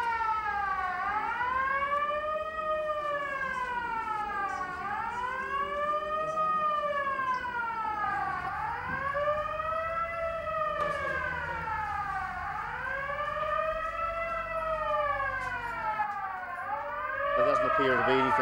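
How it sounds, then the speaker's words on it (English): Fire alarm wailing in repeated rising and falling sweeps, each cycle lasting a few seconds, sounding continuously at moderate level with background noise. "Trying to turn the alarm off, would you believe?"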